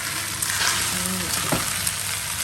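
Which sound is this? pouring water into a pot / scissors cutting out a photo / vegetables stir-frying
vegetables stir-frying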